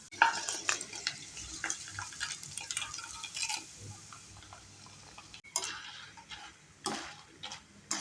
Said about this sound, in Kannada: ಎಣ್ಣೆಯಲ್ಲಿ ಸ್ವಲ್ಪ ಸ್ವಲ್ಪ ಕಾರ್ನ್ಫ್ಲೆಕ್ಸನ್ನು ಹಾಕಿ ಕರಿತಾ ಇದ್ದೀನಿ